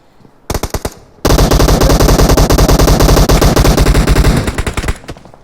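Sustained automatic gunfire sprays loudly in PUBG Mobile on the Erangel map during a custom-room match: a few short bursts, then a long, dense run of rapid shots that cuts off abruptly near the end.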